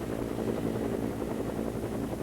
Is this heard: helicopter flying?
yes